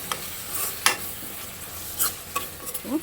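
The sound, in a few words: tamarind mandakki mirchi masala boiling and sizzling in oil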